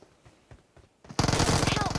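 Gunfire in PUBG Mobile: scattered single shots and footsteps give way to a loud, sustained rapid-fire automatic burst at close range.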